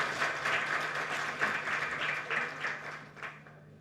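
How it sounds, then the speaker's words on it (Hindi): Audience applause at a national media and social media workshop, moderately faint, uneven clapping from a gathered crowd that thins out toward the end, with a steady hum beneath. "तालियां बजाइए इनकी हिम्मत के लिए"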